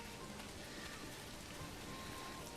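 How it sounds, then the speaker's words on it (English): Heavy rain pours steadily in the medieval strategy game Manor Lords, a dense, even hiss at low volume with no breaks and no voices. "It's raining hard."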